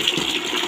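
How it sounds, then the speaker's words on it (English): Hot water pours steadily in a continuous splashing gush while a local chicken is readied for slaughter and cooking at home, close and fairly loud, with no talk. "Hot water. Pour it there."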